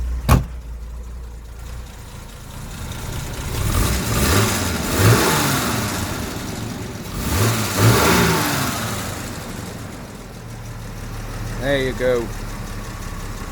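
A 1973 Jaguar XJ6 with a 4.2 litre twin-cam straight six, started from cold and settling into a steady low idle around 600 RPM with a couple of gentle revs, while people talk nearby.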